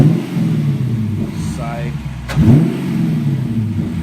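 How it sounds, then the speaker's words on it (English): A Honda Civic fitted with a new exhaust idles with a low, steady engine drone, then revs briefly with a rising growl before settling back, close by and loud, with voices talking over it. "Rev it up."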